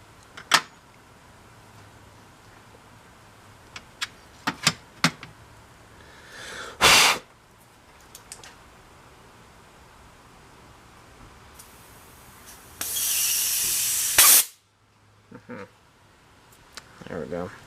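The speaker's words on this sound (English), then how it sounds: "Just blew it out with the air compressor." A handheld air compressor nozzle blows out a part from a 5000-watt generator in short close hissing blasts, one brief and one longer burst of about two seconds, between quiet clicks and handling noises.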